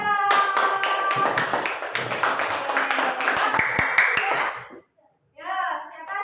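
Classroom clapping for a student, a dense patter of hands with a few children's voices mixed in, lasting about four and a half seconds before stopping abruptly, then children's voices resume briefly.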